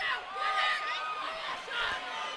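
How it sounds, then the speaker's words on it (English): A dense, loud crowd roars and chatters continuously at a live fight event, a steady wash of many voices with swelling peaks. "Crowd is so loud behind us, I can barely hear myself."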